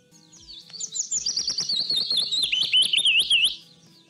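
A yellow warbler in Colorado high-country thickets sings one bright, rapid song of sweet chirping notes lasting about three seconds, clear and fairly close.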